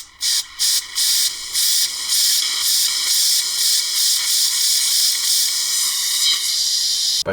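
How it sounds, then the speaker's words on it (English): Compressed air blasts into a BMW E38 part in loud hissing bursts, first short broken puffs and then a longer continuous blow. "By going all the way in with compressed air, it's gonna automatically clean out all that crap inside."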